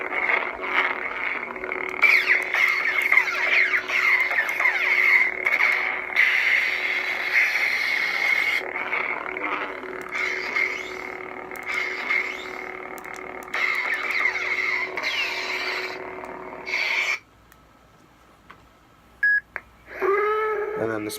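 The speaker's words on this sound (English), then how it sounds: "This is actually the original Battlefront font, so it's kind of like more like a generic lightsaber sound." A custom lightsaber running the original Battlefront sound font gives a steady electric hum with swelling swing sweeps, then cuts off near the end and leaves a few brief clicks.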